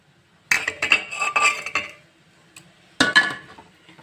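A spoon clinks and scrapes against a pan while tomatoes are stirred into a spicy noodle dish, two close, loud bursts of rapid metallic clatter separated by a short quiet pause.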